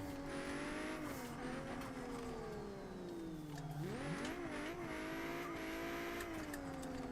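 A Mustang drifting in a racing simulator game holds a loud, continuous engine drone that rises and falls with revs, dipping and surging mid-slide, with faint tire squeal layered on top.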